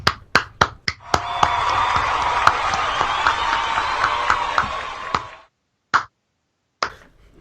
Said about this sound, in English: can we get an applause for that man